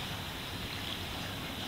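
Ocean water laps against the seawalls at a resort in Ocho Rios, Jamaica, a constant, fairly loud rushing wash of surf with wind noise over the microphone and no pause.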